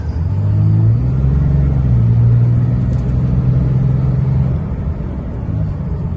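A deep engine rumble rises and holds as a 5.9 Cummins diesel pickup with a Smarty Jr tuner accelerates, heard from inside the cab, loud and steady before easing off slightly.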